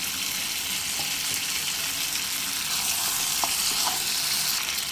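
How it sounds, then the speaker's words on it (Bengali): Chicken curry masala with tomatoes cooking on high flame, a dense continuous sizzle with occasional stirring clicks and scrapes, close and steady, no voices. "হাই ফ্লেমে অনবরত নাড়াচাড়া করতে করতে আমি কষিয়ে নেব সমস্ত মশলার সঙ্গে"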